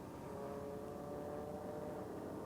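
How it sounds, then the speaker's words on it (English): Big Red race car on a track rounding a turn, its engine droning steadily and loud with a downshift as it climbs a hill, no talk over it. "That was a downshift from third to second, going up the hill."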